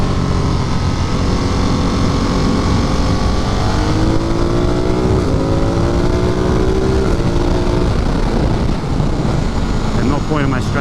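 A motorcycle with a quick shifter roars close up on a Catskills road, its engine pitch climbing and dropping through gear changes under steady wind rush, with a voice talking over it.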